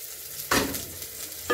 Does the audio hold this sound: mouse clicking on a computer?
no